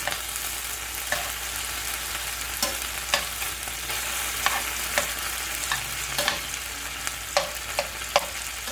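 Onions and peppers for a cheese steak sizzle steadily on a hot cooking surface while a spatula stirs them, with repeated scraping clicks over the constant frying hiss.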